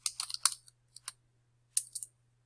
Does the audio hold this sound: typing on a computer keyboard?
yes